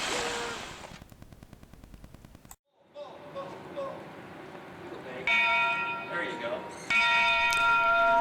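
A bell on the oldest working steam locomotive in the world, at a state railroad museum, rings with sharp repeated metallic clangs that sustain and ring out, loud and close.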